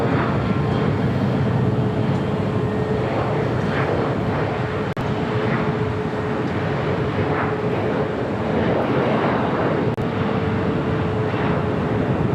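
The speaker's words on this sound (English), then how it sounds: "Next arrival is at Aloha Air Cargo, converted 767-300ER coming in from Seattle." An Aloha Air Cargo Boeing 767-300ER freighter arriving at LAX from Seattle gives a steady, loud broadband jet roar that holds evenly throughout with no pauses.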